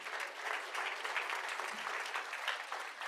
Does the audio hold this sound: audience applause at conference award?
yes